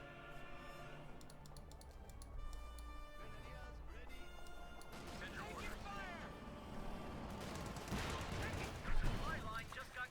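Game battle gunfire from Company of Heroes 2, a World War II real-time strategy match with infantry and bazooka teams alongside a Sherman tank: scattered shots and rattling bursts set in a dense, busy mix with a commentator talking over it.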